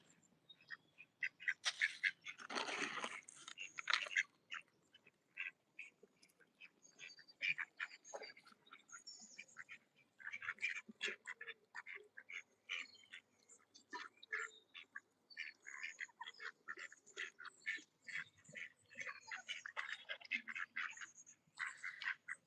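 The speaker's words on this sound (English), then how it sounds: "It's almost like a little sort of whimpering kind of noise." Soft, rapid chirping and whimpering calls from a duck, close and quiet, coming in irregular bursts with short gaps between them.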